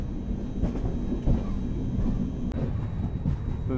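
The Mandovi Express runs on the Konkan Railway near Thivim in North Goa, giving a steady, close rumble with faint rhythmic clatter throughout.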